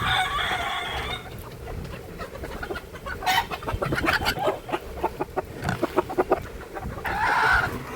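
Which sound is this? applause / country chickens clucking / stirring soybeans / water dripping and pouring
country chickens clucking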